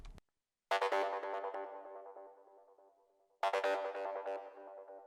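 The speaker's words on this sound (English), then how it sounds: "like a distorted stabby sound" Two loud, distorted psytrance synth stabs hit sharply, each decaying over a couple of seconds, separated by a short silence.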